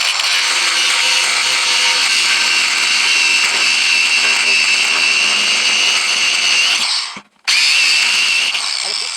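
A saw blade grinds steadily and loudly through screws while a Jotul 606 stove is taken apart, a harsh continuous buzz close up that cuts out briefly near the end and then resumes.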